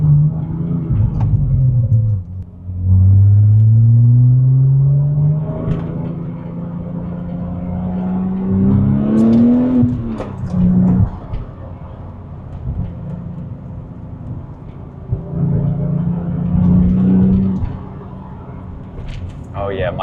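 A Porsche 996 Turbo accelerates hard, its engine rumbling and rising in pitch through several pulls, loud and close, while voices are heard over it inside the car.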